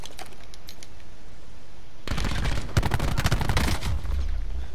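Rapid bursts of ICR rifle gunfire in a Call of Duty Black Ops 4 league match, starting after a quiet moment and cracking in fast, loud, close repeated shots for the last few seconds.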